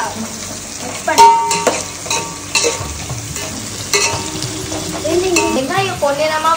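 Onions frying in a pan, sizzling continuously while a utensil stirs and scrapes with clanks against the pan, close and fairly loud with no talk.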